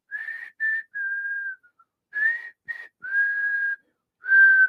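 A preacher imitates a woman whistling, producing a string of clear, tuneful whistled notes in short bursts and longer held tones, loud and alone with no talk.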